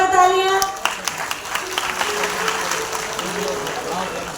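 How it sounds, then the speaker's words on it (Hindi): Applause from an audience watching women perform a stage play about Buddha, steady scattered clapping under a lingering music tone at the start, with voices mixed in throughout. "जोरदार तालियां।"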